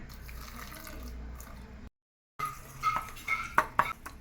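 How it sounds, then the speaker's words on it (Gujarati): Water poured into a metal pot for making salted peanuts, with clanking of the pot and utensils, a brief silent gap, then sharper clinks and splashes, close and quiet. "થોડું નાખી દો પાણી"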